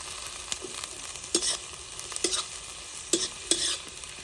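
Mixed vegetables with capsicum stirred and sautéed in a pan over a wood-fired stove for red sauce penne pasta, a steady soft sizzle broken by several sharp spatula scrapes and knocks against the pan, close by with no talking.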